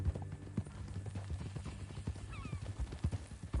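Horse hooves clip-clop at a walking pace in Red Dead Redemption 2. Brief whinnies and snorts come through, with low game ambience beneath the quiet, irregular hoofbeats.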